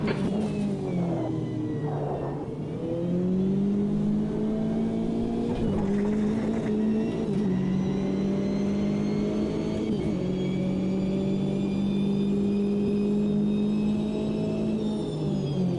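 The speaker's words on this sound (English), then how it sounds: "Alright Taylor, there's a faster car approaching." Race car engine in the racing game Automobilista 2, a loud sustained whine holding a steady pitch with brief shifts and dips, another car approaching under the engine drone.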